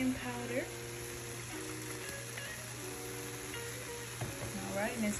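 Cheeseburger soup ingredients sizzle steadily while browning in a pan, a continuous hiss with occasional stirring scrapes and clinks, moderately quiet throughout.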